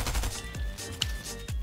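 Video game gunfire in Fortnite, with several heavy booming shots spaced roughly half a second apart, loud and close with no talk over them.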